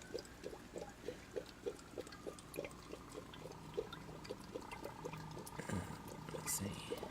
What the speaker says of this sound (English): They kind of turned up the bubbles.